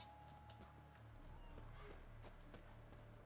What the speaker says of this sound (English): Oh, it freaks out.